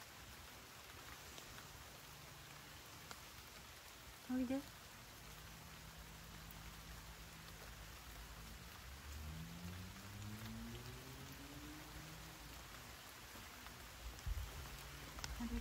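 Soft, steady rain falls outdoors during the rainy season, a faint continuous patter with occasional low rumbles, while a woman briefly calls out once.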